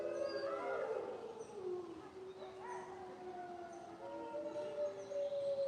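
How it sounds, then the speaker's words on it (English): A rescued dog at an exotic animal rescue lets out long, wavering howls that rise and fall, overlapping with other howling voices in a sustained chorus at moderate distance, with no talking. "That's Tundra. That bark"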